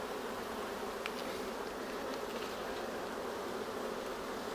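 Dense, steady honeybee buzz fills the air during a hive inspection, a close, continuous drone of many bees with a few brief individual bees passing nearer.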